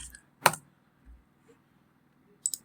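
A few sparse computer keyboard keystrokes while entering a number into a spreadsheet, close and crisp, one sharp click followed by softer taps, with quiet pauses between.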